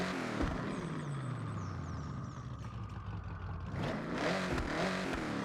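Chevy Nova muscle car fitted with a race carburetor in Forza Horizon, its engine revving up and down in a continuous raspy roar with a falling then rising pitch, no voices.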